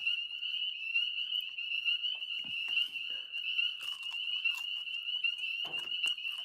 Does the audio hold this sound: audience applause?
no